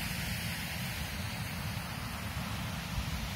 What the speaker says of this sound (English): Plenty of water in the stream now